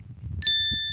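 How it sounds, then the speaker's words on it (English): A bright notification bell dings once, clear and ringing, with its tone fading slowly after a soft murmur of low background noise. "ring the bell buttons for the next notification"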